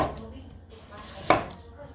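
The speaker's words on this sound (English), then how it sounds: "So I'm going to cut these into portions." A knife cuts skinned oxtail into portions on a cutting board, one sharp chop near the middle of an otherwise quiet moment, with faint kitchen background.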